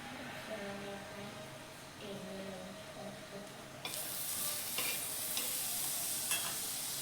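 Butter sizzles on a hot griddle before a fenugreek paratha goes on, a soft crackle that grows louder and brighter partway through, with faint clicks; close up, no talking.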